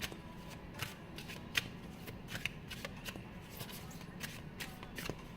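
A tarot deck being shuffled during a card reading, with soft, repeated riffling clicks and light slaps. The sound is close and steady, with brief sharper snaps scattered throughout.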